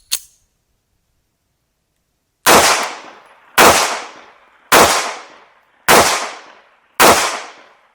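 A CZ Model 82 pistol fires 9mm Makarov rounds outdoors. A faint early crack comes first, then five loud sharp shots at an even pace about a second apart, each echoing away. No one speaks.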